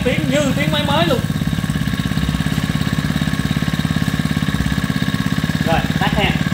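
A Japanese used Robin 38 four-stroke brush cutter engine running steadily close by, a loud even throbbing putter with a voice talking over it at the start and end.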